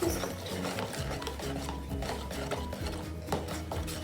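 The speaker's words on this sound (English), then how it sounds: "I think that's getting more lumps when I'm mixing it." Chocolate cake batter being mixed in a bowl, with a steady run of scraping, stirring strokes and occasional clinks of the utensil against the bowl, close and continuous with no talk.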